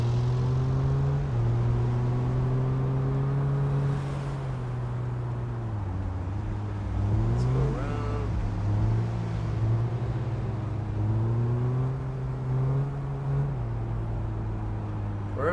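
Engine drone from cars driving through traffic in the city business sim game Big Ambitions, a steady loud hum with shifting pitch as vehicles pass, continuous throughout with no talk.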